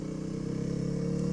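A Honda CRF300L motorcycle engine runs steadily while riding, a close, continuous low drone with a rhythmic pulse and no talking.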